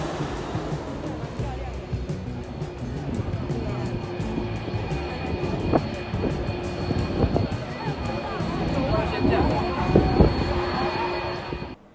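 An airplane passes low overhead while landing at Taipei Songshan Airport, a loud broad engine roar rising slightly toward the end, with a person talking over it.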